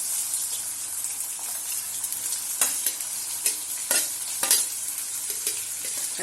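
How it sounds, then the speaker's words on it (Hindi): Onions frying in hot oil with cumin in a kadhai: a steady, close hiss of sizzling, broken by occasional sharp clacks from a spoon stirring against the pan. "इसमें हम प्याज डाल देंगे।"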